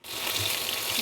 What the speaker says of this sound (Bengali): তো এখন আমি লাল লাল করে ভেজে নিচ্ছি, এই পিঠটাও হয়ে গেল।